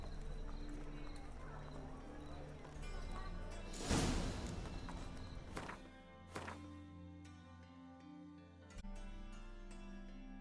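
Hoofbeats of the horse Roach clip-clopping in The Witcher 3, a steady rhythmic gallop close by with a heavy thump midway, over a low musical drone.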